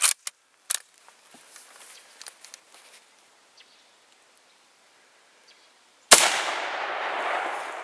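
A Mosin Nagant 91/30 rifle fires one sharp, loud report that decays into a long echoing rumble, after quieter handling clicks and rustling outdoors.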